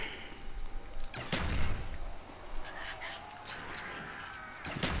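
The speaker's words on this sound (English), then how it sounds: "Okay, I'm just shooting in distance now." Gunfire in Call of Duty Black Ops Zombies on the Ascension map: a few sharp shots and bursts that are loud and close, then fade into a noisy background.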